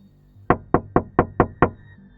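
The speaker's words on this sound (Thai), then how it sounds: "เขาก็ได้ยินเสียงเคาะที่กระจกรถ" Six sharp knocks on a car window pane in an even, fairly quick rhythm, close and loud against a quiet background, staged as a sound effect in a Thai ghost story about a school bus.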